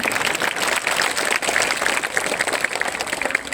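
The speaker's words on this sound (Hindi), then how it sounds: "जोरदार तालियां खुर्शीद के लिए" A school audience claps loudly for a class 8 student speaker at an Eid gathering, with close, dense and continuous applause filling the short stretch without speech.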